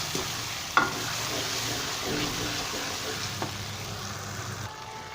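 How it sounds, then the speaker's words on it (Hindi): Tomatoes fry with garlic and green spices in a hot pan, a continuous close sizzle broken by a few sharp spoon scrapes and taps as the mixture is stirred, with no voices. "अभी इसमें मैं टमाटर शामिल कर लेता हूँ। अच्छे से भुनाई करूँगा फिर मैं इसकी।"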